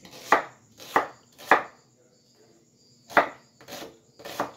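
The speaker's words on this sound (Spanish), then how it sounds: "Vamos a utilizar la mitad de la cebolla y la vamos a picar en trozos" Half an onion being chopped into very small pieces on a board, several sharp knife strikes in two loose clusters with a pause between them, close and clear with no voices.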